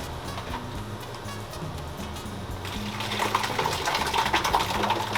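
Blueberry purée pours into beer during home brewing, a continuous wet gurgling and splashing that swells louder partway through, with faint ticking in the background.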